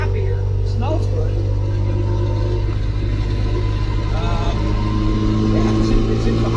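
Cooper Mini hot rod engine running at a low idle, a steady deep rumble with a raspy edge, heard inside the car under ongoing talk.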